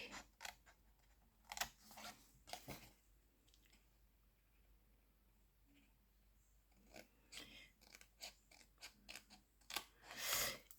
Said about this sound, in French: on va couper les carrés qu'il y a là de chaque côté